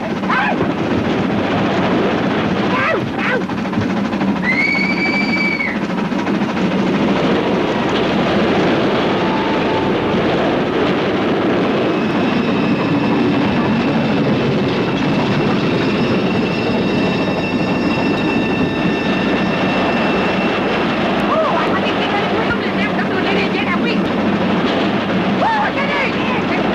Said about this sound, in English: Don't look now, but there's another train coming.